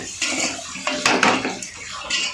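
A spoon clatters and scrapes against a metal pan while masala with salt is sautéed, a few quick close strokes with a soft hiss underneath.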